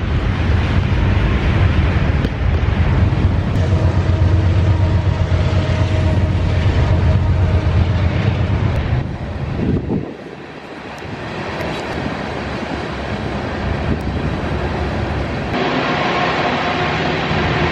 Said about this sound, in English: You want to see the train?